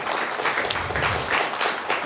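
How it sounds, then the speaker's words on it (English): Audience applause at the RPG Limit Break 2024 finale for Bob the Ninja Goldfish, a steady, mid-level wash of many hands clapping that holds evenly throughout, with faint voices mixed in. "let's give Bob a round of applause"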